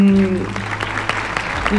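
Steady applause from a crowd fills the room at the Miss Bretagne 2022 beauty pageant results, a dense wash of clapping with a held tone fading out and returning near the end.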